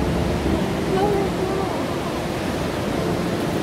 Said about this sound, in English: A very strong current of water.